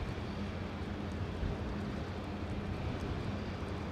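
An F-35B fighter jet in a flying display at the Farnborough International Airshow 2022 makes a steady, broad roar that holds at an even level throughout without clear rises or fades.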